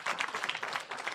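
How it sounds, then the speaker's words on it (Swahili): An audience at a political address to Nakuru residents claps for a woman, a short burst of dense, rapid applause, fairly loud and close. "So tumpigie mami makofi,"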